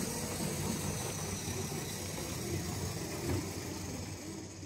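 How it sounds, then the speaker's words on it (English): A Tri-ang Hornby Britannia model locomotive hauls wagons with a faint, steady electric motor whine and low running rumble, continuous and close. "that slight whine on the motor on this particular model"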